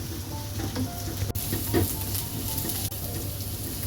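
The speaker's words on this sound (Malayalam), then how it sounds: "നല്ല ഹൈ ഫ്ലെയിമിലിട്ട് തന്നെയാണ് ഞാൻ കുക്ക് ചെയ്യുന്നത്." Dragon chicken stir-fries over a high flame: steady, busy sizzling and crackling of hot oil runs throughout, broken by a few sharp scrapes and knocks of the stirring utensil against the pan.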